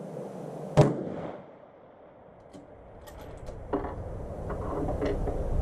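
A rifle fires at a shooting match, one sharp report early on and a quieter crack later, heard over outdoor background noise with no talking.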